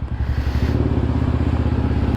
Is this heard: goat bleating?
no